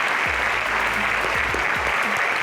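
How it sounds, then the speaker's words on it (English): A school audience claps steadily and densely for CMS Grammar School at a high school quiz game, the applause held at an even level throughout the short burst. "A round of applause for CMS Grammar School."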